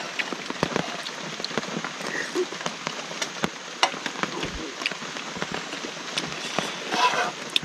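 Heavy rain pours down in dense jungle during a meal, a constant close hiss of drops spattering on surfaces with sharp individual drips and a few faint background calls.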